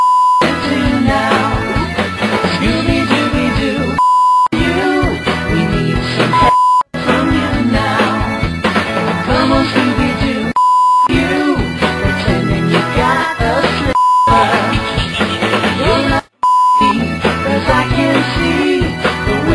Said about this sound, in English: They're just random beeps.